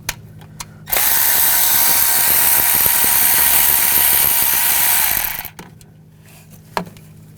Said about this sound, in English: using a 10mm socket where the dipstick goes in, the dipstick tube, I'm going to take this bolt out.